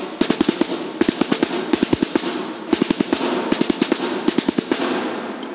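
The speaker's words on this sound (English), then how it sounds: "At dawn, the reveille would be played to wake all the soldiers up, and it would sound like this" A Grenadier Guards military side drum beats the reveille, loud sharp strokes in quick repeated rhythmic groups and rolls with brief pauses between phrases, close and clear with no talking.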